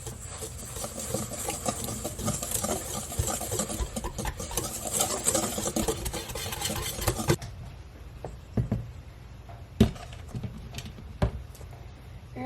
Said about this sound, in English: Let's give that all a whisk.